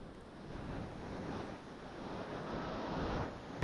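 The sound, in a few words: strong wind and the Ganga river flowing at Gangotri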